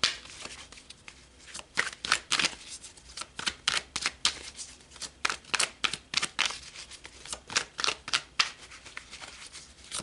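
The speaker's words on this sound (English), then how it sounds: "let's pull some more cards" Tarot cards being shuffled and drawn produce a quick run of crisp, close riffling and flicking bursts in an irregular rhythm, with soft card slides between them and no voice.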